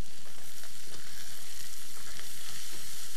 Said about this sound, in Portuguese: Pronto, agora a gente já fez o fundo da panela, já tá douradinho, a gente coloca a cebola.